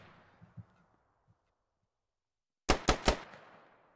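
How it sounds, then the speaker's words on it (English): In a military squad-based video game, a quick burst of three sharp, loud gunshots cracks out in rapid succession after a few faint distant shots and near silence. "There's some gunfire exchanging here."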